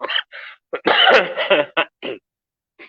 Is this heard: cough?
yes